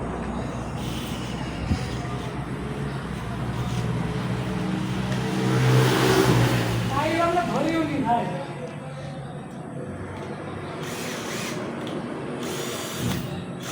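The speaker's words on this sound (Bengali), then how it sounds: "আপনারা দেখতে পাচ্ছেন মেশিনটা আপনাদেরকে চালু করে দেখাবো।" A 48-volt cordless drill, freshly unboxed, whirs up in a steady motor whine that rises, holds and winds down over several seconds, with a person talking around it.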